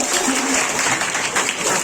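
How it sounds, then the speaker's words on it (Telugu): Applause for an honoured couple, Sri Mallidi Veerraghava Reddy and Smt Mahalakshmi, at a felicitation ceremony: dense, steady clapping from a gathered audience for about two seconds, fairly close and even in loudness. "చప్పట్లు పెట్టుకుంటాం"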